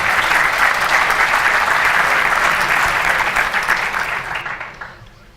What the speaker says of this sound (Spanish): Así que un fuerte aplauso para ellos.